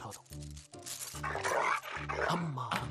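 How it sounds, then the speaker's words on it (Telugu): A dog in a comedy film scene, heard as short low growls and yips in repeated bursts under a busy soundtrack with voices. "ఇది కరిచే కుక్క అస్సలు అరవదు."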